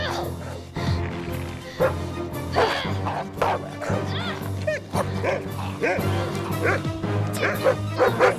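Dogs bark, yip and yelp in a wild fight scene from the film The Trial of Old Drum, sharp repeated cries over a loud, busy background with voices mixed in.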